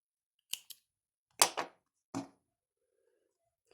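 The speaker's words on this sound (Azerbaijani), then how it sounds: "Qalan ipi də kəsirəm." Scissors snip through leftover yarn after a knitted leaf is finished, giving five crisp, close cuts in quick pairs over a few seconds with quiet gaps between them.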